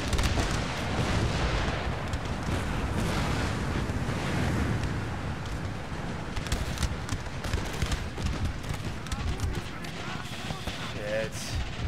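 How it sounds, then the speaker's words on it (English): A dense, continuous roar of musket volleys and cannon fire rolls through a large Empire Total War land battle, with the Polish-Lithuanian side fighting in the Darthmod mod, loud and steady throughout with crackling bursts and a voice murmuring faintly underneath. "I thought somebody was shooting"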